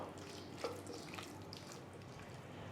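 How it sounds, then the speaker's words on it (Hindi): A kitchen tap runs steadily as 500 grams of chicken is washed under it, a faint continuous splash of water into a sink, with no talking. "अच्छी तरह से धो लें चिकन को और सुखा लें"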